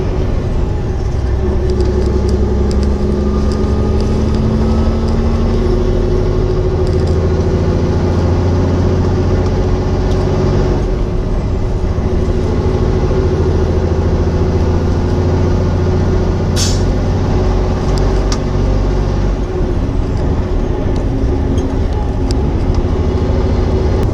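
A truck engine runs steadily with a constant loud drone while the driver shifts gears, the pitch dipping and rising through the changes, with occasional faint hiss and rattle inside the cab.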